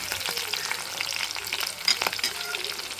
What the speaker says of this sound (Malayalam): ഇഞ്ചി വെളുത്തുള്ളി പച്ചമുളകും കൂടി നമുക്ക് ചേർത്ത് കൊടുക്കാം